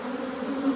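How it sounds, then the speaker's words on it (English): A dense swarm of honeybees flies around an open hive, their steady overlapping buzz holding close and even for under a second, with no voices. "There's a lot of bees flying"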